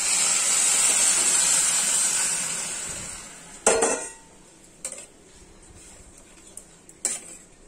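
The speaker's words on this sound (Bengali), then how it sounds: "এই গরমে জলটা আমি এবার ঢেলে দেবো।" Hot water poured into a pan of fried jute leaves hisses and sizzles loudly for a few seconds, then fades, and a few sharp utensil clinks against the pan follow.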